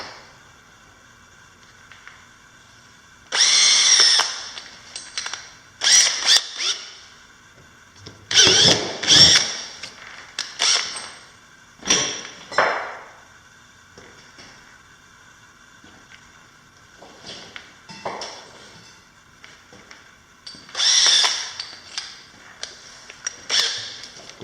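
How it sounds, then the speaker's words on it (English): Power drill fitted with a large bit, running in several loud bursts of a few seconds each, separated by short pauses, with no talking. "this is actually just about the biggest drill bit I got"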